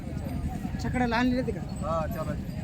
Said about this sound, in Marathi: बघू शकता बैलगाडीला चालू आहे ती